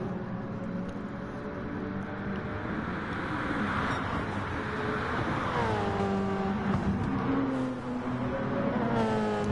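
Race cars in an iRacing multi-class race roar past, engines rising and falling in pitch as they pass and overtake one another, a steady, loud engine drone alone throughout.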